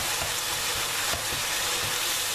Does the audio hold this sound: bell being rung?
no